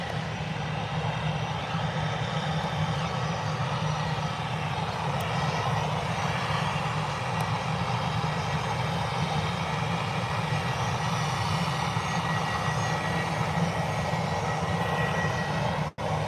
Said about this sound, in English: we've got an aircraft approaching pretty quick.